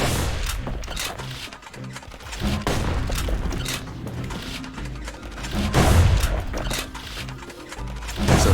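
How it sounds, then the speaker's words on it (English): Caelandian army carbine fire in the video game Bastion, a rapid run of punchy shots repeating in bursts over game ambience, loud and close, with little speech. "Nothing beats the feel of shooting a Caelandian army carbine."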